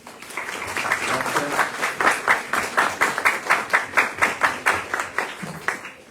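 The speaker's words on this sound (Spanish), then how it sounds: "para que pida un aplauso" Audience applause welcoming a guest to a talk on the essay, starting as a mixed patter and settling into rhythmic, evenly spaced unison clapping that fades out at the end.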